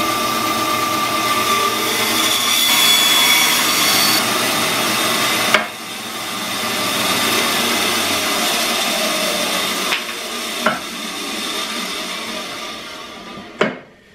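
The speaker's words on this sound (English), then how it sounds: "I'm just going to use my bandsaw and cut this stuff on the bandsaw." A bandsaw cutting metal stock runs steadily with a harsh, grinding whine, broken by a few sharp knocks and clunks as the cut proceeds.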